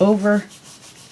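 Tape is pressed and rubbed down onto a lapbook board, a soft, faint scuffing that follows a short spoken phrase and continues quietly to the end.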